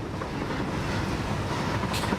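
A train rolling past in the factory-building video game Satisfactory: a steady, close rumble with wheel clatter throughout and a brief hiss near the end, no talk.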